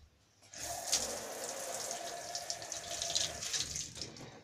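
Tap water runs into a sink while a rabbit cage tray is washed, a steady rushing splash that starts abruptly and continues with irregular spattering as the tray is moved under the stream.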